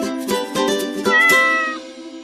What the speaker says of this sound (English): my cat Wesley is wandering around in the room.